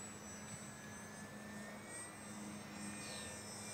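A Durafly Rare Bear 400mm RC plane flies overhead with its electric motor at part throttle, a steady whining drone with shifting high tones as it passes, outdoors with no talk.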